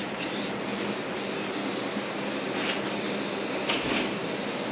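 Rustoleum Turbo Automotive Primer rattle can spraying onto a car, a close, steady hiss in short bursts with brief pauses between passes.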